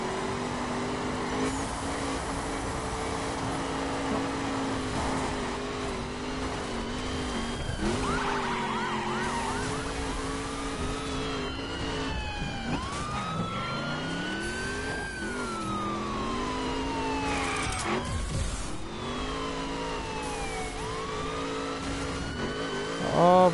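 Race cars in the video game The Crew rev and accelerate, their engine pitch repeatedly climbing and dropping through gear changes in a loud, continuous drone, with no voices.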